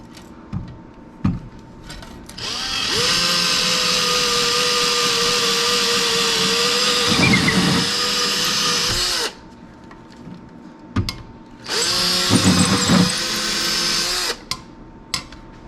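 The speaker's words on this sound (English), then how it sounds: "I drill a pilot hole with this small bit here" A power drill with a small bit whirs in two long bursts while drilling a pilot hole to mount an under-cabinet LED light fixture, winding up to a steady high whine, biting briefly under load, then stopping, with clicks between.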